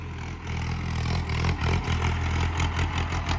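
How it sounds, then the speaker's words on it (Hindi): Tractor engine during off-roading, a close, rough low engine rumble that pulses and surges with revving and some clatter, no talk. "अब ट्रैक्टर से कर रहे हैं यहाँ पे।"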